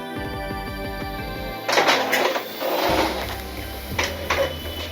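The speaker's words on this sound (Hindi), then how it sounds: "हम एक दूसरा कार्ड भी प्रिंट कर रहे हैं वैक्सीन का" A colour printer feeds and prints a PVC vaccine card, its motor whirring and stepping in rhythmic mechanical bursts, close and loud with no talk.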